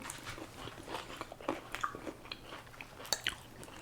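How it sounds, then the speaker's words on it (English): Close, quiet chewing of crunchy green beans cooked with onions, with irregular crisp bites and crunches in an uneven rhythm. "Green beans are really crunchy with all the onions in there"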